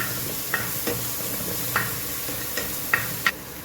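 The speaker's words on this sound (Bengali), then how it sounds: "পেঁয়াজটা একটু ভাজা ভাজা করে নেব" Chopped onion frying in a pan for an Indian vegetable soup, with garlic and ginger added just before: a steady close sizzle broken by several sharp scrapes and clicks of stirring, no talk.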